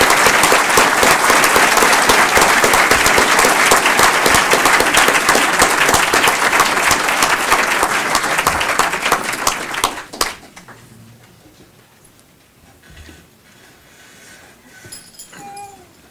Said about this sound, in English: So big round of applause for these students for going.